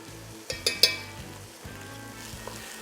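Vegetables sizzle and fry in a hot pan as tomato paste is added for Texas chili, with a few sharp utensil clinks against the pan over the steady crackle.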